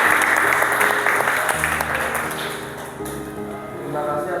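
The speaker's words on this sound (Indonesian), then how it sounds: "Oke, tepuk tangan untuk kelompok 1." Applause from a classroom of students for the first group after a guidance session presentation, steady clapping from many hands that fades slightly toward the end, with voices murmuring underneath.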